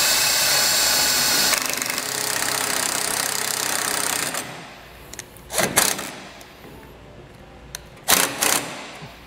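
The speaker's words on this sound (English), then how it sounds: "And we'll just take our self-tapper and run it in." A power driver runs a self-tapping screw into trailer metal, a loud continuous grinding whir for about four seconds, followed by a few short clanks and handling knocks.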